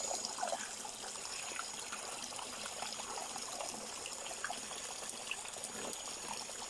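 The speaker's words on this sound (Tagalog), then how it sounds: "dyan naaagos yung tubig na marumi" Dirty water drains out of a water tank's drainage outlet in a continuous trickling, splashing flow, steady and fairly close.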